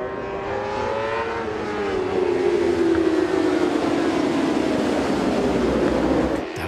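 Racing motorcycles launch together from the start of an IDM race at the Schleizer Dreieck circuit, a loud massed engine roar that rises steadily in pitch as the pack accelerates away, with no talk over it.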